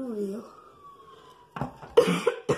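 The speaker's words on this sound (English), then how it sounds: "now that I am getting this cough at the start of the week" Several short coughs from a person with a cough, close and fairly loud, following a stretch of quieter voice and background.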